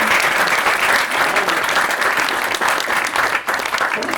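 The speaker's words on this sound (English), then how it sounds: "a big round of applause" Theatre audience at a magic show applauding a volunteer committee member, dense, steady clapping from a large crowd filling the room, continuous for several seconds.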